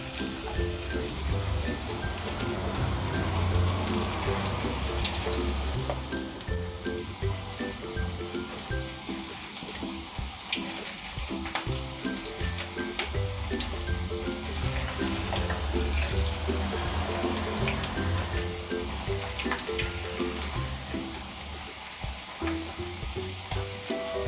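Potato slices fry in a pan of oil for homemade barbecue chips, a dense, continuous sizzle and bubbling crackle close to the microphone, steady and fairly loud with no voices.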